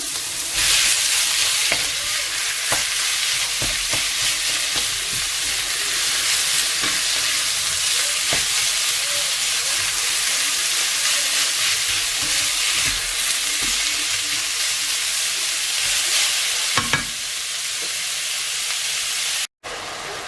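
Meat sizzles loudly in a hot pan with garlic and onion for palabok, a steady, close frying hiss with occasional scrapes and stirring clicks, continuous for about twenty seconds without talk.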